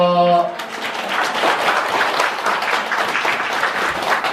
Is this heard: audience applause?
yes